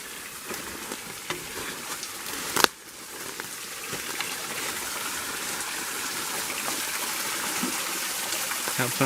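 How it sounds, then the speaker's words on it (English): A small waterfall about 5 feet high in Bankhead National Forest, Alabama, spills and splashes nearby, a broad continuous wash of noise with one sharp knock partway through. "that's the first little waterfall in this little section"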